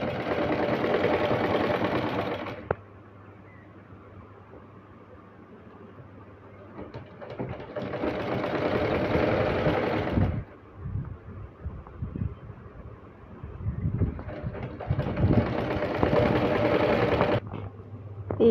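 A sewing machine stitches a lined blouse in bursts of steady mechanical whirring, running for a few seconds, pausing, then starting again, loud and close with a low hum between runs.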